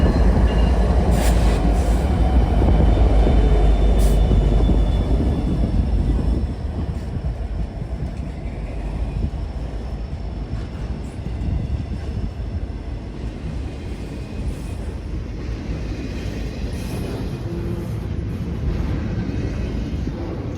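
A Union Pacific intermodal container freight train passes close by at Elkhart, a loud, steady rumbling roar with rolling wheel noise that holds for about twenty seconds, strongest in the first few seconds.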